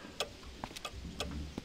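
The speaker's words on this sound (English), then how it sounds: "all the ticking will drive you mad" Several clocks tick together inside a clockmaker's shop in the Wizard101 video game, producing a steady, crisp pattern of overlapping ticks at moderate volume with no talk over it.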